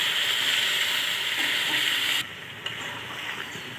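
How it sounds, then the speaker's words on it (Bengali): Chicken curry sizzles loudly in a pan as a little water is added; steady close hiss runs for about two seconds, then drops abruptly to a quieter simmering fizz with a small clink. "কষিয়ে নিয়েছি, এটা এবার অল্প একটু জল দিচ্ছি,"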